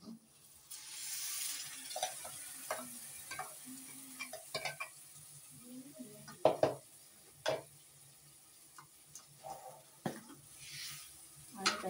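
Ground masala paste for a Malvani-style egg curry hits hot oil in a pan on the gas stove, giving a soft, low sizzle broken by intermittent stirring scrapes and light knocks against the pan.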